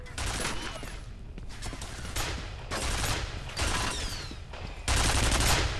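Automated defensive turret gunfire in the F.E.A.R. video game, sustained loud bursts with repeated surges of rapid shots and crackling impacts over about six seconds, close and dense, with an electronic whine faintly present.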